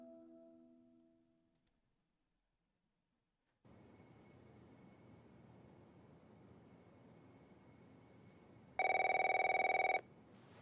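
A telephone rings in the video game The Last of Us, a single loud electronic ring burst near the end after a quiet hum, with a fading musical tone at the start.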